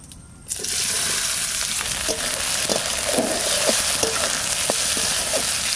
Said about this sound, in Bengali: তেজপাতা, শুকনো লঙ্কা, জিরে, এবার পেঁয়াজ দিয়ে দিচ্ছি